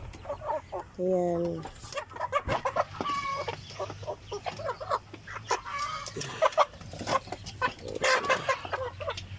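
Native and Rhode Island Red chickens in a backyard flock cluck in busy, irregular bursts close by, with an occasional louder squawk and someone talking briefly over them.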